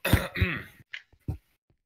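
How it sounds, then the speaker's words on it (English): A man coughs hard several times in quick succession, close and dry, the first bursts strongest and the later ones trailing off into short throat-clearing rasps. "Big cough."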